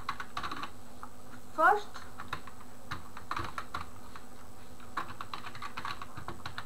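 Light clicking keystrokes on a computer keyboard come in short irregular runs, close and quiet, beneath a voice talking over them.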